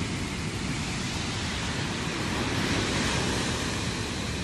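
Ocean waves at Shelly Beach, Nambucca Heads, a loud continuous roar of surf with steady wash and some wind buffeting the microphone, no voices.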